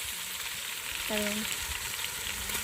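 Chopped onions and green chillies fry in a hot pan with a steady, close sizzle throughout, broken by a brief tonal sound near the middle.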